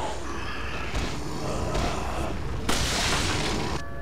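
A run of sharp gunshot bursts from Resident Evil 4 in quick succession over a dense, noisy background, with a louder blast near the end.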